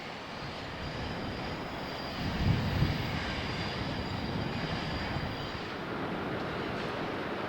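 A steel mill train hauling molten steel through the Chicagoland area, heard as a steady, loud broadband rumble of rolling railcars and engine that swells briefly near the middle and then holds even, with no voices.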